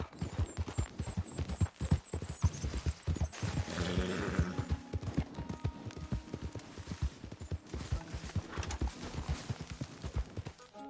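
A horse gallops in the video game Red Dead Redemption 2, rapid rhythmic hoofbeats pounding steadily and close throughout, with a brief whinny and faint ambient hum.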